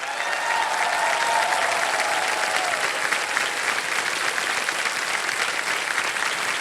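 The studio audience of the Kaun Banega Crorepati season 17 TV quiz show breaks into dense, uniform applause that holds steadily throughout, loud and unbroken, with a brief faint voice early on.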